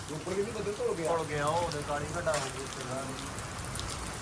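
Constant rain patter runs underneath while someone talks over it at close range.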